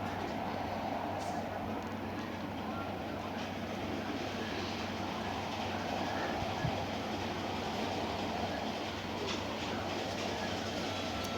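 A train rumbles past in a natural disaster video game, a steady, continuous low rolling drone with a faint hum, moderately loud and unbroken throughout with no talk over it.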